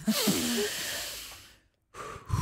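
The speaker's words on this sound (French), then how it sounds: "Une grande respiration." A long, deep in-breath, loud and close, fading away into silence before a fresh breath begins; a live radio morning show setting.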